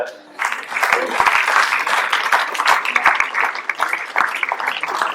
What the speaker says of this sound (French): Et on va applaudir Marc Billerbost.